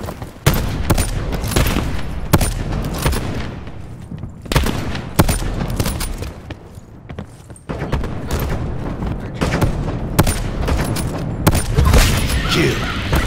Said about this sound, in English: Sniper firing.